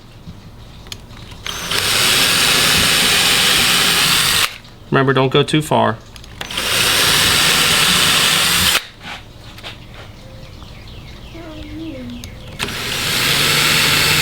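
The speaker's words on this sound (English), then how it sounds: "we can go ahead and drill the other pilot holes" An electric drill whirs loudly in several long runs, drilling pilot holes while installing a louvered teak console door, with a voice speaking briefly between them.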